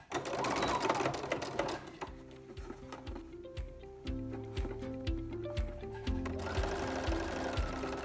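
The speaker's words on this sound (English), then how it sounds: "you're just going to do a little edge stitch all the way around your vent" A sewing machine runs edge stitches around the vent of a French seam about 1–2 mm from the edge, starting at the hem; its steady mechanical chatter comes in bursts with brief pauses, close and clear, with no talk.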